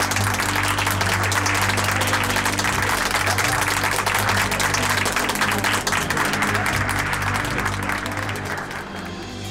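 Loud, sustained applause from a large wedding crowd as a singer is invited on stage, steady clapping over a low hum of music, tapering slightly at the end.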